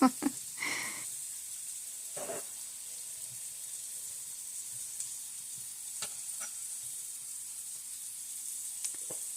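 Potato hash with onion frying in coconut oil, a low steady sizzle and hiss with a few sharp scrapes and clinks of stirring early and scattered later, nearby and without speech.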